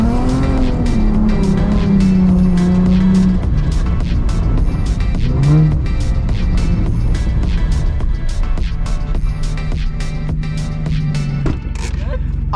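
Nissan 350Z with an angle kit and a welded differential power sliding, its engine revving loud and close with long rising and falling tire squeal, while people talk and shout over it.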